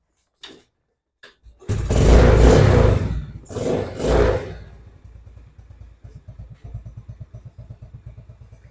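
An old motorcycle engine is kicked over, then catches and revs hard twice with a loud exhaust roar. It settles into a rapid, lumpy idle with distinct chugging exhaust pulses.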